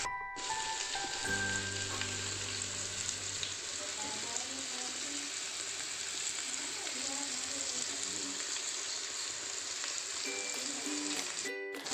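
Fish pieces coated in a spice mix fry in hot oil in a Malayalam home kitchen fish fry, a steady broadband sizzle running throughout, with a low hum early on and soft clinks near the end.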